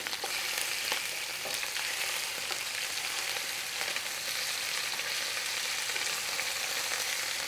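Beef pieces browning in a hot frying pan for Greek giouvetsi give a steady, close sizzle and crackle with small pops, running without a break and without voices.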